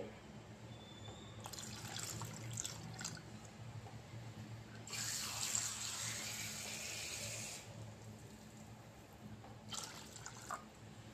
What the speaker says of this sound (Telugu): ఇందులో సరిపోయినంత వాటర్ కూడా వేసేసుకోవాలి.